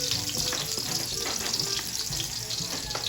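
Garlic sautéing in a pan as the base for Filipino ampalaya with egg, a dense, steady close sizzle with crackling pops running throughout, no voices.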